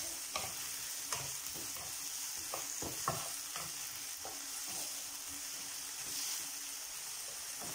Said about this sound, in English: I'm going to fry this.